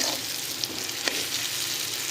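Turmeric powder frying in a pan gives a steady, close sizzle with faint scraping and stirring clicks, and no voices.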